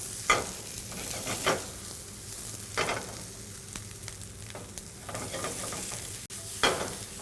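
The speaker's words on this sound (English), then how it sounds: "We hear that nice sizzle." Bell peppers fry in a hot pan with a steady, close sizzle, broken now and then by louder scrapes and stirs; no one speaks.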